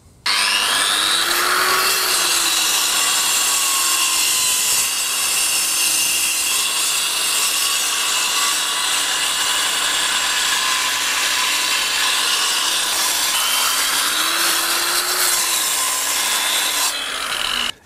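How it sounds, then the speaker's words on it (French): Angle grinder fitted with a diamond (carbide) disc cutting a marked line into stone for a dry-stone wall, a steady loud continuous grinding whine with a gritty hiss that holds for the whole stretch, slight pitch dips as the disc bites, no talking. "C'est une meuleuse qui est équipée d'un disque carbure qu'on appelle aussi un disque diamant."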